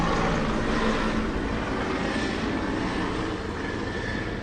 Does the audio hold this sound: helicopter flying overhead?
yes